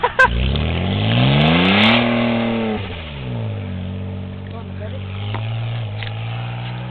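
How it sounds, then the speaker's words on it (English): A twin-turbo Dodge Stealth drifts past as its engine revs hard, rising and then falling, then settles to a lower drone while it drives on. Excited voices shout over the engine noise. "You like that when I was drifting?"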